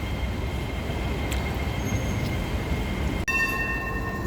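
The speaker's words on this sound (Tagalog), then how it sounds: "507往屯門碼頭嘅一卡列車即將駛入2號月台" An MTR Light Rail train pulls into a Hong Kong platform with a steady rumbling roar that runs throughout, joined near the end by a brief dip and then a tonal electric whine as it arrives.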